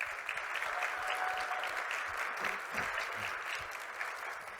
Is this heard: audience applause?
yes